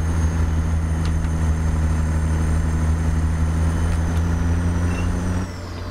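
A stretched Peterbilt 379 with a Cat 3406E engine climbing a steep grade in low gear in American Truck Simulator, a loud, steady diesel drone with a deep constant hum, easing slightly near the end.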